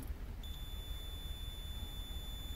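Continuity beep from a Cen-Tech 11-function digital multimeter, a single steady high-pitched tone that begins after a split second and holds without a break over faint background hiss.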